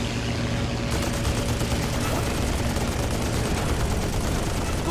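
Aircraft machine guns firing during a WWII dogfight, a dense, loud, continuous fusillade of rapid gunfire, close and harsh, with no talking.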